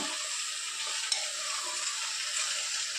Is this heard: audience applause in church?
no